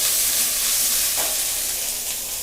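Green chilies and onion hit hot tempering oil for a pumpkin stir-fry, giving a loud, dense, continuous sizzle close up, easing slightly toward the end, with no voices.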